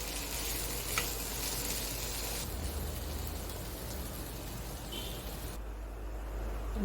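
A vegetable fry sizzles steadily in a pan, a close, continuous hiss of oil that holds at an even level from start to finish with no voices.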